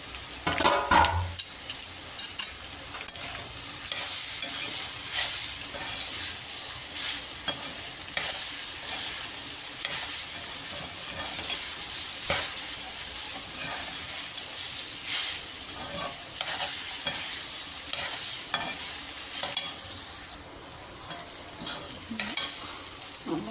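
Soaked urad dal is stirred in a pan, a spoon scraping and shuffling through it in repeated strokes over a steady frying sizzle and hiss, close and fairly quiet, with no talking.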